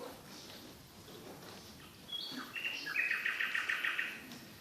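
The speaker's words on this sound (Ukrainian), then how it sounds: "а в Матвієвому садочку вже соловейку співає" A nightingale sings a bright, rapid trilling phrase, warbling and then repeating a fast pulsing note, clear against a quiet background.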